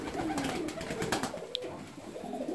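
Fancy ornamental pigeons coo in soft, repeated throaty calls, several birds overlapping at moderate distance with a brief sharp tick partway through.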